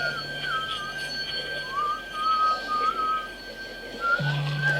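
Short whistled phrases, thin and high, drift up and down over a steady low hum, with pauses between the tune fragments.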